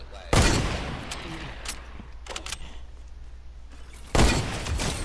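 Bursts of gunfire in a shooter video game, a loud volley at the start and another near the end, with quieter scattered shots and game noise between them.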